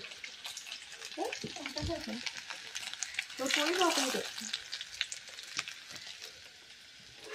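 Ginger and garlic hit a hot pan and fry with a steady close sizzle, stirred now and then, while a voice talks intermittently over the crackle.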